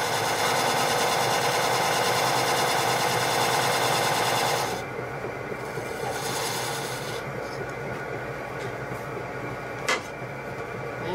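A wood lathe turns a big piece of wood while a large tenon is cut, giving a steady dense rasping scrape with continuous machine rumble, harsher at first, then easing slightly, with one brief sharper knock near the end.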